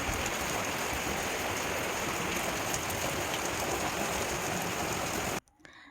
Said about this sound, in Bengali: কি পরিমাণ বৃষ্টি হচ্ছে তোমাদেরকে কী বলবো প্রচুর বৃষ্টি হচ্ছে